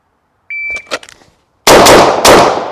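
A Gen 5 Glock 19 pistol fires at a shooting range, two loud close shots in quick succession with sharp reports and ringing decay, preceded by a shot-timer beep and faint sounds.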